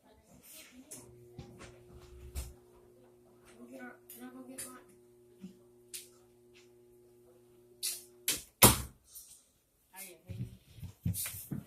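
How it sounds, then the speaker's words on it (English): A door being shut indoors makes one sharp, loud thump late in the stretch, set among quiet stretches of a person talking and small shuffling noises in a room. "Just a minute, let me close my door."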